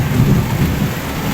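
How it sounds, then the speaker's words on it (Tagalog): Heavy rain pours steadily during a storm in Hong Kong, with a low, rolling rumble of thunder beneath the dense hiss of the downpour, loud and close throughout. "Kumukulog-kulog, kumikidlat-kidlat."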